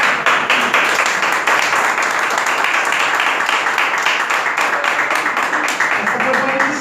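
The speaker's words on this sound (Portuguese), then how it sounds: "as palmas do Senhor." Congregation clapping in a church service, a dense steady patter of many hands filling the room at a constant loud level throughout.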